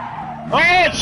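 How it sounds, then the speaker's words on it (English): Racing car tires squealing through a corner in the driving game GT Sport, a short rising screech over engine drone that swells briefly and fades. "And I hear the tires crying too."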